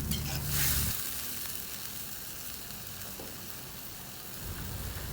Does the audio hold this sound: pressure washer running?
no